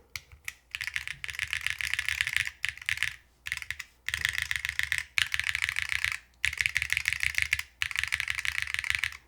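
Bursts of typing on a mechanical Hall-effect keyboard fitted with PBT keycaps, a dense clacky rattle of keystrokes in several runs separated by short pauses, close and clear.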